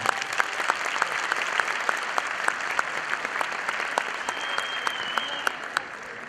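An audience at a Denizli police force 180th-anniversary celebration claps in a steady rhythmic beat, each sharp clap standing out over a continuous wash of applause, and a faint thin tone hangs in the middle.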